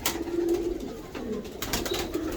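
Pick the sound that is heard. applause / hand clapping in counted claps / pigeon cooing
pigeon cooing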